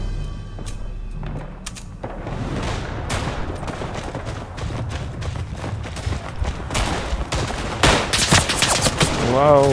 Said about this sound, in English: Wow, machine gun.